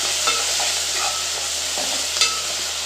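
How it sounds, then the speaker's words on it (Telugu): Fenugreek leaves frying in hot oil in a pan for a cauliflower mixed-vegetable curry give a steady, close sizzle with a few soft stirring clicks, and no one speaks. "ఇప్పుడు మెంతాకు వేసుకుందాం ఇది ఆయిల్లోనే వేసుకోవాలి"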